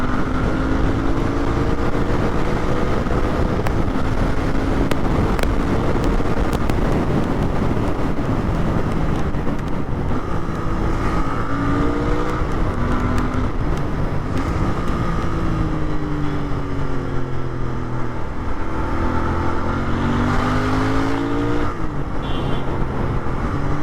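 A Royal Enfield Bear 650 motorcycle engine runs loud and close for a long stretch, revs rising and falling with steady wind rush as the rider works through the gears.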